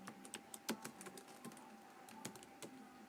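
Someone types on a computer keyboard in a quiet room, with soft, irregular key clicks landing a few times a second over a faint steady hum.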